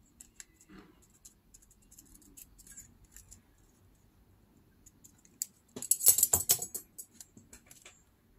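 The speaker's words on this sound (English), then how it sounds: "fussy cut out around with the edge from the brown paper" Scissors fussy-cutting around the edge of brown paper glued to cardstock: faint small snips and rustles, then a louder cluster of sharp crisp cuts and paper crackle near the end, with no talking.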